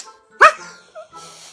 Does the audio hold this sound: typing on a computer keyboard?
no